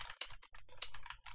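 Code being typed on a computer keyboard: quick, continuous clicking keystrokes at close range with short pauses, no voices.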